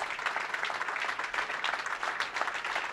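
Steady applause from a bowling tournament audience after the final shot of a senior stepladder final, a dense continuous patter of many hands at moderate distance with no break.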